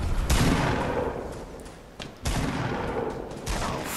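Rapid gunfire bursts in the video game Fortnite, loud and close, with dense volleys, a brief pause near the middle and then more sustained firing.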